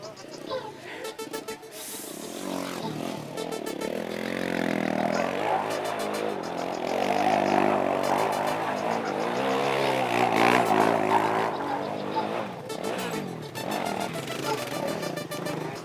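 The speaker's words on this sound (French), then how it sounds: "Les garçons qui sont là, qui roulent en moto" Young men ride motorcycles nearby, engines droning and revving with rising and falling pitch, several machines overlapping in a sustained, moderately loud roar that swells mid-way and eases toward the end.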